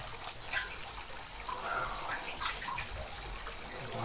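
Gentle water flows and splashes in a fountain, quiet and close, a continuous trickle with small bursts of droplets and pouring ripples throughout.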